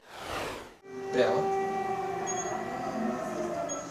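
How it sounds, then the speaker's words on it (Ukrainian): After a short burst of noise, a steady wailing air raid siren tone rises and drones on continuously at a moderate distance in Dnipro, Ukraine. "Сирена лунає під час прийому пацієнтки."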